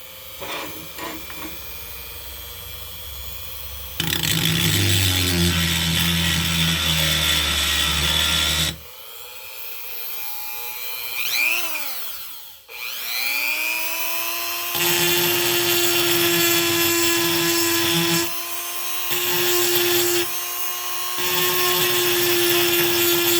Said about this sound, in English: So take my little Dremel.